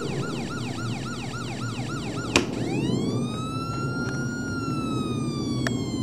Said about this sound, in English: if you wonder why these sirens are so loud